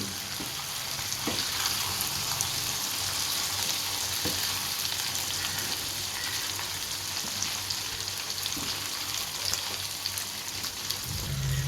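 Chicken pieces frying in hot oil, producing a dense, continuous crackling sizzle like heavy rain that holds steady for the whole stretch, with a faint clink or two.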